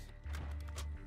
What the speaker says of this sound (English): Switching mags.